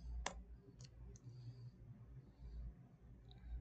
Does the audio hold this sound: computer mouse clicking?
yes